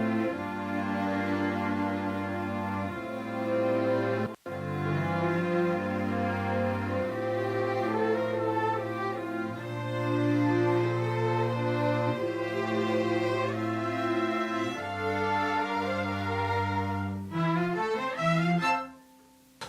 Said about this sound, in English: This creates the full string sound